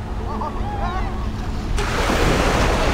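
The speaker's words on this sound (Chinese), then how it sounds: "哇，这涨潮了！" Sea waves washing onto a beach on the Beibu Gulf coast as the tide rises, a continuous loud surf roar that swells louder halfway through, with a voice briefly audible early on and wind buffeting the microphone.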